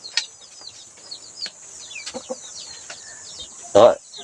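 Chickens cluck and chirp in short, scattered calls, with a louder squawk near the end.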